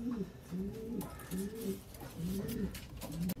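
Pigeons coo in a breeding loft, several soft, throaty calls repeating in a steady rhythm close by, each a rolling low burble with short pauses between.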